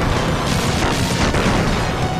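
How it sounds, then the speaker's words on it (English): Sega Genesis Gunstar Heroes gameplay with continuous overlapping explosions, a dense, loud, crackling wall of synthesized booms and bursts with no gaps. "the entire screen at times will just be nothing but explosions"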